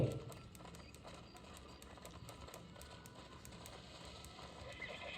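Hooves pound at a steady gallop in the Red Dead Redemption video game, a rapid rhythmic clatter running continuously under a dense layer of game ambience, moderately loud and close.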